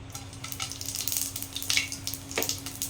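Whole spices, including bay leaves, sizzle and crackle in three spoonfuls of hot oil for a fish curry, with a steady frying hiss and a few sharper pops, no talking.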